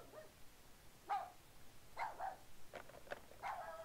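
Dog barking in the survival horror video game Rule of Rose, a series of short, fairly faint barks or yips spaced through the moment with no talk over them.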